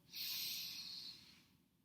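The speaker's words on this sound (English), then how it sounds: "Breathing in," A slow breath drawn in through the nose during yoga practice, a close, soft airy hiss that swells quickly, holds, then fades away, heard alone in a quiet room.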